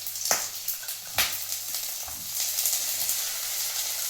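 Large onion pieces sizzle in hot oil in a pan for a Tamil-style channa masala, a steady bright crackling frying hiss with a few soft knocks from the pan. No one talks over it.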